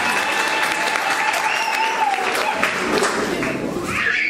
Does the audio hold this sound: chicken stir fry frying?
no